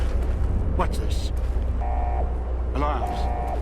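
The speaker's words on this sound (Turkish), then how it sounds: "Alarms." A security alarm goes off in the video game Fallout New Vegas, repeating electronic tone bursts that pulse over a low rumble.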